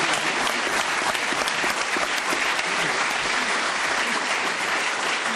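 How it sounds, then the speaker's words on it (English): Studio audience and panel on a 1980s British television word-game show applaud steadily and loudly throughout, a dense continuous wash of clapping with no break and no voices standing out. "Just before then, they were actually applauding."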